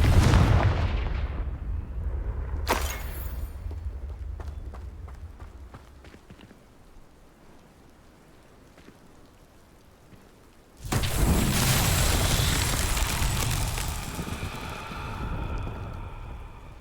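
Fire spell blasts in the Hogwarts Legacy game: a sharp burst near the start, then a quieter stretch and a loud, broad roaring explosion that swells and lingers, with no talking.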